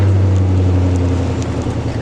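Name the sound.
loud truck exhaust without catalytic converters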